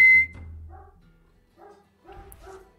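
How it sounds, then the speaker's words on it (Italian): A dog barks indoors, giving a few short, close barks and yips in quick bursts with small pauses between them. "Sentilo come abbaia, senti."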